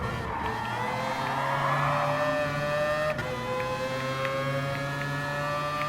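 Playing in Gran Turismo Sport, a rotary-engine race car drones at a steady, high-pitched whine, holding a sustained engine tone with a brief dip and click midway and no talk.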